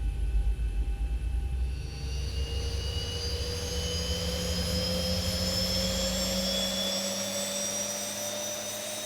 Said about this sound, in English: Okay, so we'll go ahead and start engine number 2.